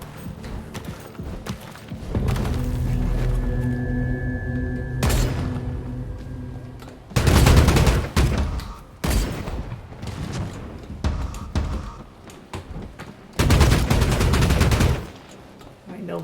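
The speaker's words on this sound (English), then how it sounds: "They're close because I can hear the gunshots" Gunshots ring out in the online game Vampire: The Masquerade - Bloodhunt, with bursts of rapid fire and single loud shots mixed with footsteps and movement noise, some nearby and some slightly distant.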